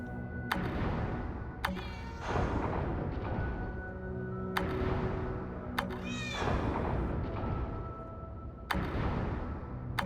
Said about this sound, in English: You can hear the kitty.